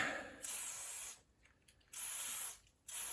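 Several bursts of spraying hiss from an aerosol can used on a Canyon Neuron:ON mountain bike during trail prep, each lasting about a second, close up with short quiet gaps between.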